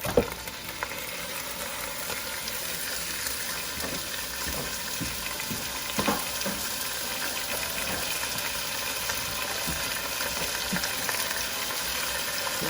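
Food sizzles and crackles steadily in hot olive oil in a pan, a continuous busy frying hiss with occasional louder pops and stirring, no talking.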